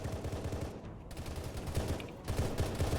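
Rapid gunfire rattles back and forth in an Arma 3 firefight, with dense, overlapping shots from both sides, steady and fairly faint throughout with no voices.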